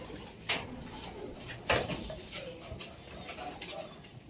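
Racing pigeons coo softly and intermittently nearby, a few low murmuring calls mixed with light clattering and rustling from the loft, with faint background ambience.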